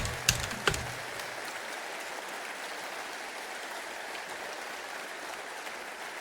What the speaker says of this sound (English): Please give that amazing group of people a good applause.